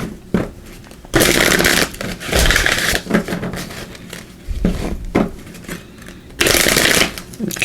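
Earth Magic Oracle cards are shuffled by hand in several crisp, rustling bursts, close and loud, separated by brief quieter pauses.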